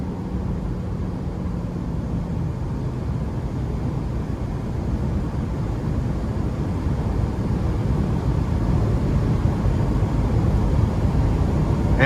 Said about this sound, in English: And wind noise is not overly intrusive.